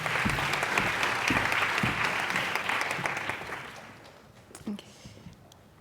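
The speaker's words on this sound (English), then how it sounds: "Give them another round of applause." Students and guests at a challenge finalists' event burst into a loud round of applause, dense clapping that gradually fades to scattered claps by the end.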